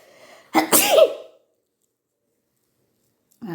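A single sharp, close sneeze bursts out once, loud and unaccompanied, with a brief sharp intake before it. Silence follows.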